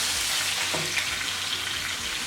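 Beef browns in hot oil in a pot for a shredded beef dish, a soft, even sizzle that hisses steadily at low volume throughout.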